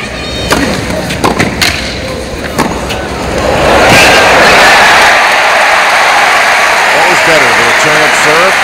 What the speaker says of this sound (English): The crowd going crazy after the point.